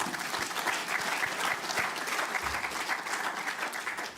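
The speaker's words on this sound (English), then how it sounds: "Let's give our directors a round of applause." Audience applause for the directors at a school-year results event, a dense, steady wash of many hands clapping that carries evenly through the clip without any talk.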